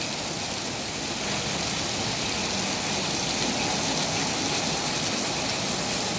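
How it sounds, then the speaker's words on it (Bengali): Heavy rain pours onto a flooded street in Bahrain, a dense, continuous roaring hiss of water that stays loud and even throughout, with a faint engine hum beneath. "এই দেখেন বৃষ্টি কীভাবে পড়তেছে"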